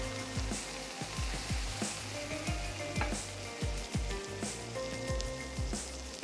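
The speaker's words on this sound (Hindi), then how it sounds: "चिकन हमारी कुक हो रही है" Chicken cooks in a pan with a faint, continuous sizzle, marked by repeated soft low thumps and taps like stirring, close by and without talking.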